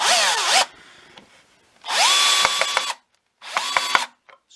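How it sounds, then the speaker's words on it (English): A Bosch PSB 1800 LI-2 cordless combi drill drives a screw into wood in three bursts, each whine rising in pitch and then holding steady, loud and close, with short pauses between. "I just want to see how the drill can drill the screw into the wood"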